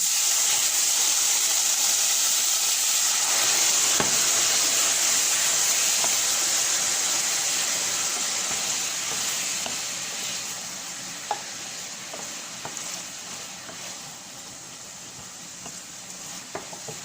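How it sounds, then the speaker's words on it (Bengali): A spice paste of turmeric, chilli and cumin with shrimp sizzles and bubbles in a pan after a splash of hot water. The steady close hiss fades gradually, broken by occasional stirring taps. "একটু গরম পানি দিয়ে মশলাটা কষাচ্ছি।"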